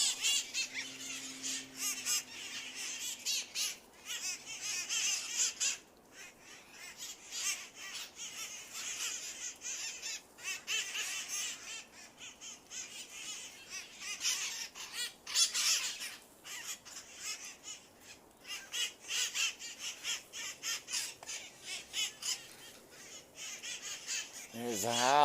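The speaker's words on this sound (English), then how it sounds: "25 parrots in the tree." A flock of about twenty-five parrots perches in a tree in San Francisco, squawking and chattering in scattered, fairly faint bursts over a quiet outdoor background, with people talking at times.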